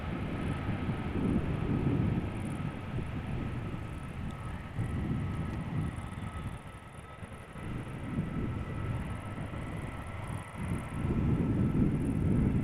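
A Boeing 747 landing at Amsterdam Schiphol with light reverse thrust sounds as a broad, distant jet roar that swells and fades in waves, with a low rumble underneath.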